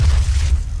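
A heavy, booming weapon blast from the Gauss Cannon in DOOM, a deep low-frequency rumble sustained for under a second, loud and close with no talk over it.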